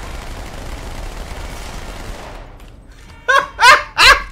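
Dual SMGs firing in Halo 2 on Halo MCC, heard after a stretch of game ambience as three short, loud rapid bursts close together.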